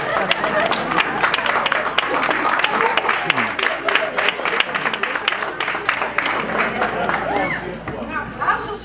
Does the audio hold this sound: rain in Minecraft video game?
no